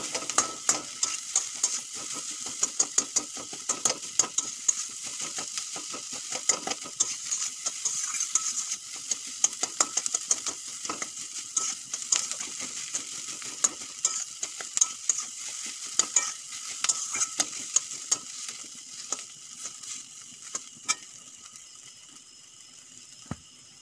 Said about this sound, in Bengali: একটু খুন্তি দিয়ে আর একটু ভেঙে ভেঙে দেবো।